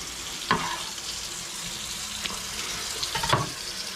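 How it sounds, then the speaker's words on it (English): A messy omelette with avocado fries in a pan, giving a soft steady sizzle broken by a few louder scraping or clattering bursts, no talking. "Making a messy omelette for dinner."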